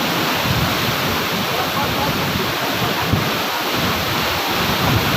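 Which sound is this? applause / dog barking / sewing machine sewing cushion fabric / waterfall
waterfall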